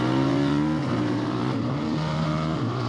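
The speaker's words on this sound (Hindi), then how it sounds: "वो स्कूटर लेकर जाने लगा।" A cartoon scooter engine drones steadily as the scooter rides off, a continuous buzzing motor tone that holds loud and even for a few seconds.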